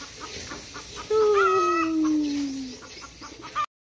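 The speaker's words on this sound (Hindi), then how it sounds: "ये मुर्गी मुर्गी इस वक्त आवाज़ दे रही है क्योंकि इसने शायद अंडा दिया है" A hen clucks loudly nearby after laying an egg, in a rising, drawn-out squawking call, with quieter clucks before and after.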